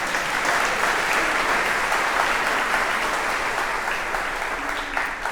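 A church congregation claps steadily for several seconds in a large room, a dense, even wash of applause with no voices standing out.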